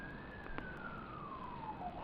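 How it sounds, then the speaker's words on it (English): An ambulance siren sounds at a cricket ground during a Durham versus Derbyshire match, a single rising and falling wail drifting steadily downward in pitch, moderately distant beneath steady ambient crowd and ground noise. "But it is an ambulance."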